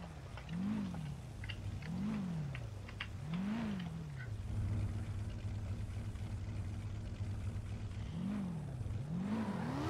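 Engine revving from cars doing burnouts in an online roleplay driving game, a rising-and-falling whine repeating roughly every second and a half under a steady loud drone, with a sustained roar through the middle.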